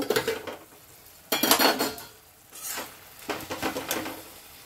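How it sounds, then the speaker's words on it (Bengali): Spinach (palong shaak) being stirred in a cooking pan produces close metal scraping and clinking of a utensil in three separate bursts, with a soft sizzle underneath. "আর একবার ঢেকে দেবো নেড়ে চেড়ে"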